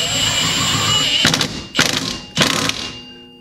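Ratchet tightening lug bolts on a 2011 Chevy Impala rear wheel hub during hub replacement, a whirring mechanical buzz then three loud clanking clicks in quick succession, close and without talk.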